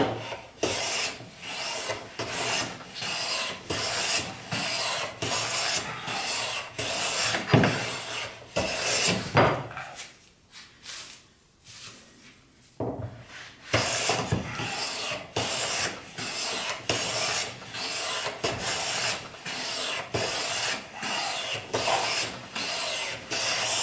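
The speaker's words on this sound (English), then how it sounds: "what you're looking for is just a clean, smooth shaving all the way from one end to the other." A hand plane takes long shavings while a wooden board is flattened by hand, repeated rasping strokes in a steady back-and-forth rhythm, close and fairly loud, with a short quieter pause midway.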